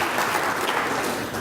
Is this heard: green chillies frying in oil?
no